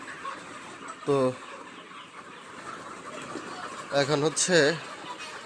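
Broiler chickens on a farm clucking and squawking in short bursts as they are loaded onto a vehicle for sale, with someone talking nearby over the birds.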